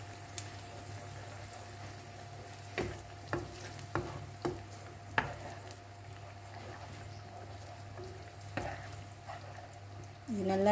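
Onion sambal frying in oil for vegetarian nasi lemak, a steady sizzle with several sharp clacks of a spoon stirring the pan, heard close and on its own.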